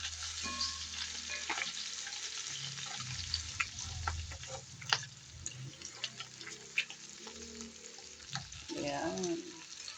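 Garlic sizzles and fries in a pan for pork chops with a steady crackling hiss. Occasional stirring clinks and scrapes break in, and a brief voice is heard near the end.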